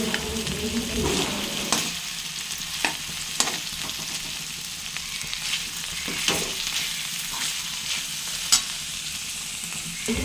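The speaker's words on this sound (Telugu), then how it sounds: "పొట్లకాయ ముక్కలు అయితే చక్కగా మగ్గిపోయి కదా ఇలా నూనె పైకి తేలాలండి" Ridge gourd pieces fry in oil in a pan, a steady close sizzle running throughout with occasional light scrapes from stirring, no talk.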